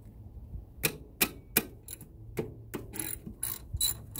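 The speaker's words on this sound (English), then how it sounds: "Now loosen up the tensioner here." Close, sharp ratchet clicks sound in quick bursts and then in a faster rhythm as the belt tensioner is loosened on a 2007 Subaru Forester during an alternator replacement. The clicks play alone against a quiet background.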